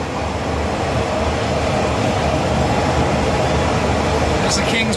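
A Thai fast train runs steadily past an old station between Bangkok and Hua Hin, its even rumble and hum heard from on board, continuous and moderately loud with no clear speech.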